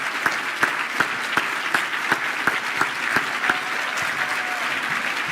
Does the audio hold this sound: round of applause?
yes